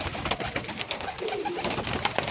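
Pigeons in a loft coo over and over in soft, overlapping calls, close by and steady, with no voices over them.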